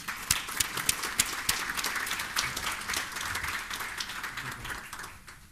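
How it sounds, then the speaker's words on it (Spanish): A breakfast-event audience in Uruguay applauds the conference speakers with dense, sustained clapping from many hands, a few sharp claps standing out near the front before the sound tapers off. "un aplauso para los conferencistas"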